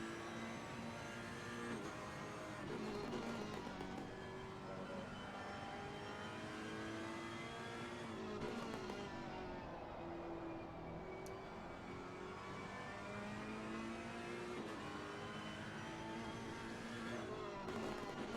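A GT race car engine at the Hungaroring on a qualifying out lap, running steadily and loudly with shifting revs and harmonic whine throughout, rising and falling as the car works through gears.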